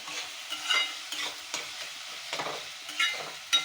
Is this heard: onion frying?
yes